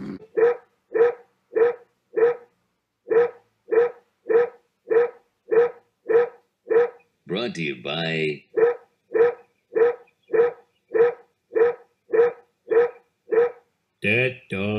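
A cartoon dog barks in a steady, evenly spaced series of sharp yaps, loud and close, broken midway and at the end by brief bursts of talking.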